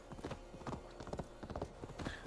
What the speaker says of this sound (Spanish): al menos el caballo se mueve bastante rápido